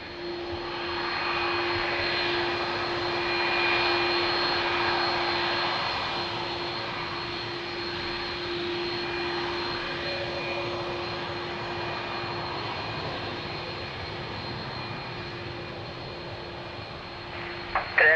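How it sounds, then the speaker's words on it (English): A Boeing 777 airliner at Lisbon Airport gives a steady distant jet engine roar with a faint constant whine, holding evenly and swelling slightly, with no talk. "Beautiful 777."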